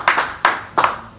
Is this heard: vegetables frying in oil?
no